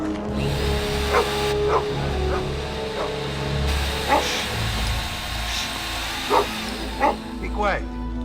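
A dog barks and yips several times at irregular intervals at mid distance, over a steady engine-like hum in a tense outdoor scene, with no voices.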